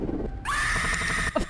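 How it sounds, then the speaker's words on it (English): Tails screams in a Sonic.EXE fan game, a sudden loud sustained cry that starts partway in and holds for about a second, then a short grunt-like burst at the end. "they've got unique voice acting for Tails instead of that awful generic scream"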